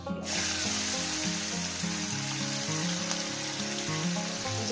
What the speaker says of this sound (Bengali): এটাকে আমি এক থেকে দেড় মিনিট এটাকে ভেজে নেব